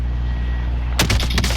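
A sniper rifle shot in a first-person shooter lands as a sudden loud crack with a rolling boom tail, breaking into steady low engine-like background noise for a second burst of echoing report.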